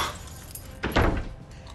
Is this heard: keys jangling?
yes